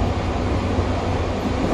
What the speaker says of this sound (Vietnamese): Chuyến metro số 7 này nè sẽ đưa mình đến quận 13.